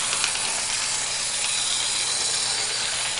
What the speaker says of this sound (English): the locomotive is ready for its test, plus a test of its hauling capacity